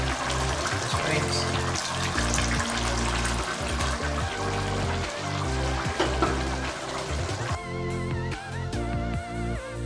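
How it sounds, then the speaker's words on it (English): Water is poured into a pot of Nigerian editan soup from Akwa Ibom, a steady continuous pour at moderate loudness beneath a layered, tonal background. "So right now I'm going to add a little water"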